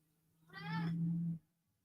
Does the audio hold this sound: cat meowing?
yes